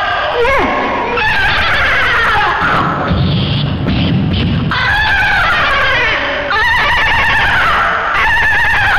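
Voices imitate a horse's neigh during a storytelling-technique session, giving several loud, shrill whinnying calls with wavering pitch, broken by a short stretch of breathy noise in the middle.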